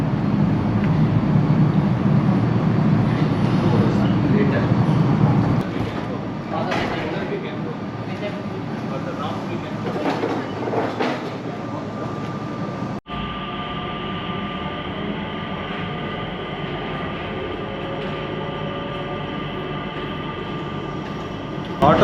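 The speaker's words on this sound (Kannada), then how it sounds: "ನಮ್ಮದು ಟ್ರೈನ್ ಬಂತು, ಸ್ಕೈ ಟ್ರೈನ್." An automatic driverless Skytrain at Singapore airport rumbles up and runs past with a steady low roar and rising whine, then settles into a smoother hum with a tonal drone after a brief cut, under intermittent talk.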